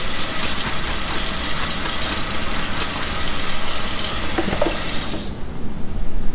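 Hot water runs steadily from a kitchen tap into the sink, a loud continuous rush of water that cuts off near the end.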